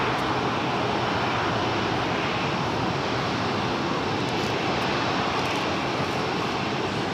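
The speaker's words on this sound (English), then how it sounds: "Emirates about to make the left-hand turn onto Lima" Emirates airliner taxiing at LAX toward a turn, continuous loud engine roar and rushing noise that stays even from start to finish, with no voices.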